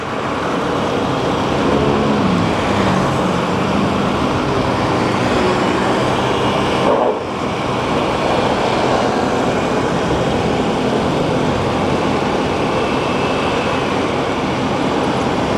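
Road traffic on Cebu South Coastal Road makes a loud, continuous broadband roar of passing vehicles, heard from close by, with one brief dip in the middle.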